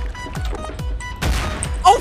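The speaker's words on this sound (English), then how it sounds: "I'm just gonna start shooting your boat with cannons up close." Pirate ship cannons firing in a Garry's Mod naval battle game, several quick booming shots in succession at close range, followed by a heavier crash.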